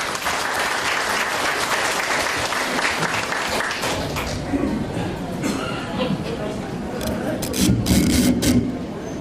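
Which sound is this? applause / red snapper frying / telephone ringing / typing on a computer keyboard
applause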